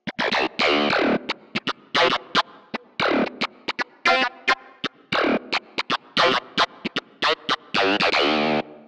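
Choppy, heavily distorted funk clavinet riff run through a Mu-Tron effect, with a filtered, wah-like quacking tone, playing short staccato stabs in a syncopated rhythm, loud and alone.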